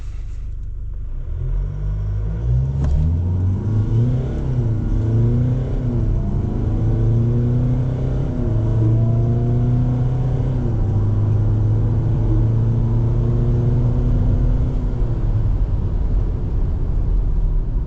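A 2025 LDV Terron 9 ute in sport mode with stability control off accelerates hard through a 0-100 km/h run, engine note climbing and dropping through gear changes as a loud, steady roar from inside the cabin.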